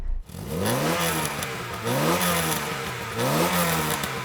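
Close VW Golf GTI 1.6-litre 16-valve engine revved three times in a row, each rev rising in pitch and falling back, loud and rhythmic.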